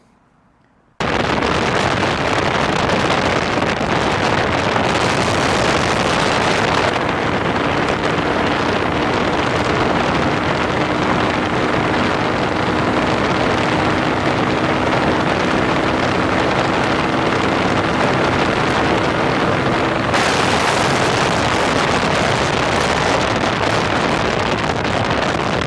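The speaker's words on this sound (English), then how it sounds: "So riding with the windshield on the motorway, I only managed to reach briefly 60 miles per hour" Heavy, steady wind roar buffets the microphone on a Lexmoto Venom SK125 motorcycle with a windshield fitted, riding at speed on a motorway, loud and continuous throughout with a faint engine hum beneath.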